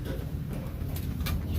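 Low, steady cooing from an older Cacah (Brintik) pigeon kept in a collector's loft, a soft continuous rumble repeating close by with faint background noise.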